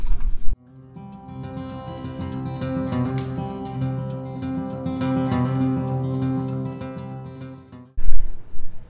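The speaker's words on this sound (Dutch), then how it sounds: "Ze graven ongeveer een geul met een grote machine van 1 meter diep." A large machine digging one-metre-deep drainage trenches in farmland, with a loud, steady engine drone and grinding mechanical tones that run for most of the time, framed by brief outdoor noise.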